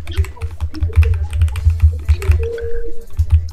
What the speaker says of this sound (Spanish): Estas teclas que estoy usando relajan